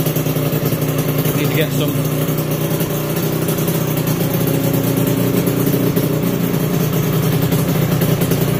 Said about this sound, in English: Get a few little blips of throttle